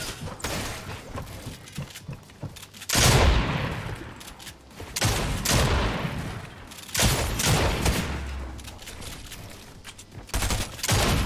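Rapid bursts of gunfire from an AK rifle in the video game Fortnite, loud volleys with heavy booming thuds, recurring in several clusters across the span with brief gaps between.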